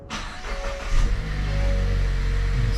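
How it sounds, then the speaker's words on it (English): A 2021 Mazda car's engine cranks and catches, then settles into a steady, close idle hum that holds for a couple of seconds. "Okay, let's start the engine."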